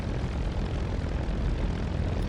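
A Spitfire IX piston engine idles steadily at about 1000 RPM in the DCS World flight simulator, a continuous close rumble with a broad, even roar and no break, and no one talking.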